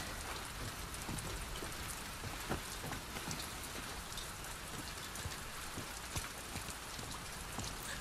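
Steady rain falls throughout the game The Last of Us Part II, a dense, even hiss of drops on surfaces with scattered sharper splashes, loud and continuous with no voices.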